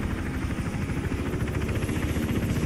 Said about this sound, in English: as if a helicopter would just do this.